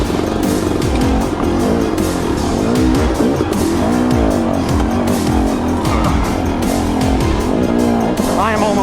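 A motorcycle almost out of fuel labours uphill on a long climb, its engine droning steadily and loudly close by, the pitch rising and falling with throttle changes throughout.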